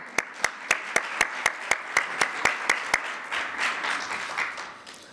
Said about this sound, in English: You can clap now.